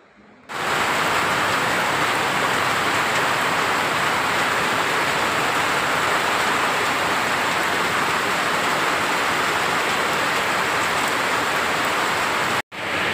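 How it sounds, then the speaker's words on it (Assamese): Heavy rain pours steadily and loudly, a dense unbroken hiss that fills the whole stretch, briefly cutting out near the end. "এনেকুৱা বৰষুণ দি আছে"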